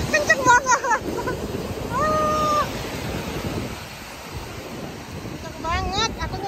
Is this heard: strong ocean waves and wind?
yes